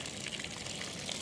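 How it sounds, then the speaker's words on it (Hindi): Water splashes and hisses steadily onto plants outdoors at night during a moonlit watering, a continuous soft spray with no voices. "हम इन्हें चांद की रोशनी में पानी दे रहे हैं"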